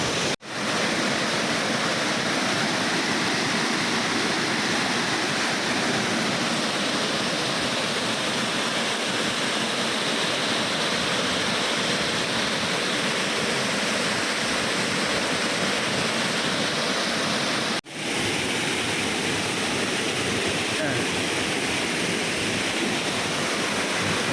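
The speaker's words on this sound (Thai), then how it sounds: "เดี๋ยวจะไปดูตรงถ้ำใต้น้ำตกนะ" A waterfall at Khao Phu Tabaeng roars close by, a loud, dense, unbroken rush of water that fills the whole stretch with no talk over it.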